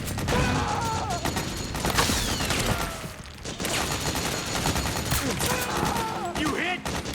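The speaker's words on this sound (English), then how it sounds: "Suppressing fire!" Sustained automatic gunfire crackles through a Metal Gear Solid 4 firefight on PS3, with dense overlapping bursts and shouting soldiers calling out orders over the shooting throughout.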